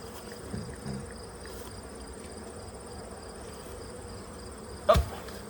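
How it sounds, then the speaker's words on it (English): Honey bees hum around an open backyard hive, a soft continuous buzz with a few closer passes and a brief knock near the end. "So I just smash the bees down there."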